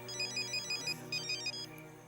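A mobile phone ringtone plays a short, repeating electronic melody of bright beeping notes, fairly close and alone, for about two seconds.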